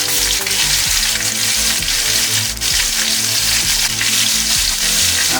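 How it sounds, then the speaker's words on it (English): A skinless mahi mahi fillet fries in butter and oil in a pan, giving a loud, continuous crackling sizzle with a dense spattering texture that holds steady throughout. "I'm gonna put the fish on it."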